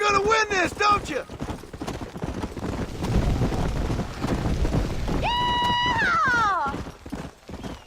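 Horse hooves clip-clopping at a gallop in Red Dead Redemption, with a horse whinnying near the end and people shouting and talking over the ride.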